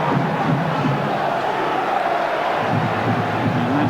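A football stadium crowd at Charlton Athletic v West Ham United in 2000/01 sends up a sustained, rising roar of voices and chants, loud and continuous throughout, with a commentator's voice faint underneath.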